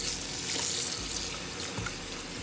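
Hot tap water runs steadily over tomatoes and peppers in a kitchen sink, a continuous close splashing hiss with no talking.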